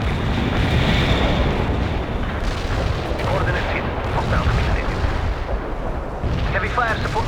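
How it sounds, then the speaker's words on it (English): An artillery barrage pounds in the World in Conflict strategy game, with dull booming impacts and rumbling explosions over a constant roar, while a voice talks over the battle. "Artillery strike successful."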